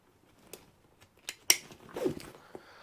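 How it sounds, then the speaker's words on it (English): The plastic clip buckle on a motorcycle dry bag snaps into place, a sharp click standing out among a few quieter taps and rustles of the bag's fabric and strap. "on each end of the bag there is a clip"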